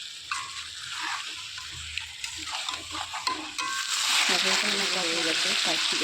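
Garlic paste frying in oil for chicken rezala, a continuous close sizzle that swells louder toward the end, with stirring clatter and brief murmurs of talk in the background.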